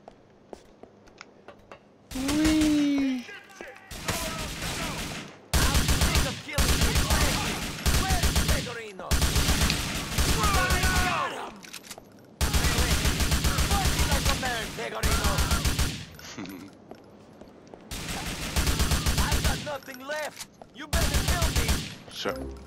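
Shootout in Grand Theft Auto IV on PC: loud bursts of rapid automatic gunfire come in repeated volleys separated by short quiet gaps, with occasional shouted voices in between.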